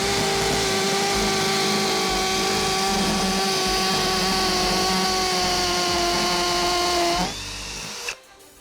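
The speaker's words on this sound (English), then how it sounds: "So we've got to make sure it's in the hammer function, of course, because it's the masonry drill bit." Hammer drill in hammer mode driving a masonry drill bit through material, a loud continuous whining drone with a strong steady tone that runs for about seven seconds, then winds down abruptly to a quieter rattle and stops.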